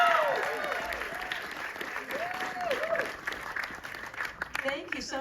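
Audience applause at a Q&A panel for the 2024 series Monsters, greeting co-creator Ryan Murphy. Steady, dense clapping fills the room, with some whistles or cheers over it and voices talking through it.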